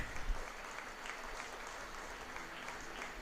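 Steady audience applause at a sports awards ceremony, dense even clapping from a crowd heard alone at moderate distance for a few seconds.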